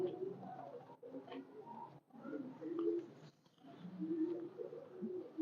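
Breeder pigeons in a loft cooing, soft repeated low coos in short phrases with brief pauses, fairly close and quiet, no talking.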